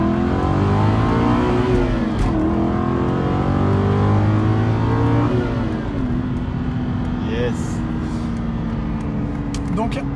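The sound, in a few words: Aston Martin Vantage V8 accelerating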